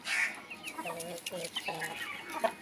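A Peru cross chicken clucks repeatedly nearby in short, uneven bursts, with a faint voice in the background.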